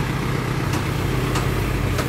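Isuzu HF1 mini dump truck engine idling steadily at close range, a continuous low rumble with faint periodic ticks and no talk.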